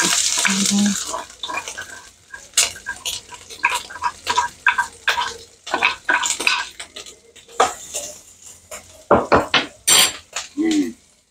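Smashed dried shrimp and garlic hit a pan, followed by clattering utensil and pan knocks and scraping as they are stirred, with a faint sizzle underneath, in a home kitchen.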